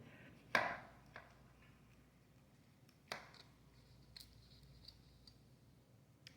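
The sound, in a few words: knife slicing a piece off the end of a meatloaf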